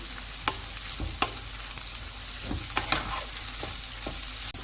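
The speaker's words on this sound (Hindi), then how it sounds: "और इसे तकरीबन 3 मिनट तक भून लेंगे" Garlic paste frying in oil for masala karela, a steady close sizzle broken by occasional soft clicks and scrapes of a stirring spoon.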